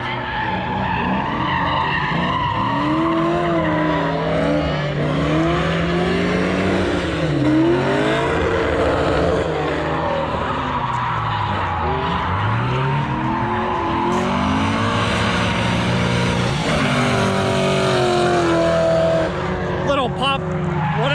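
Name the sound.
drift car revving and drifting at Thunderhill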